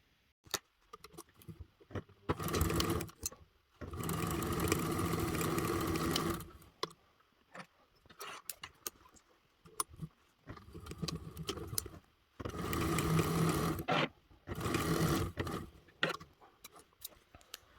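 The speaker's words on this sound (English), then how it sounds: "we're going to sew these two together with a 1/4 inch seam allowance" A sewing machine stitching two fabric panels together with a quarter-inch seam, running in several steady bursts of rapid mechanical whirring separated by pauses with small handling clicks.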